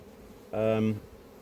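Honey bees buzz in a close burst at an apiary hive during an inspection, a steady droning hum lasting about half a second against quiet background.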